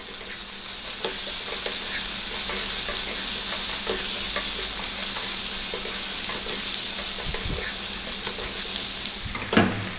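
Ground coriander, turmeric, cumin and chili powder sizzle and fry in a pan over lively heat for potato curry, with steady loud crackling and scraping stirring strokes throughout and a brief clatter near the end, no voices.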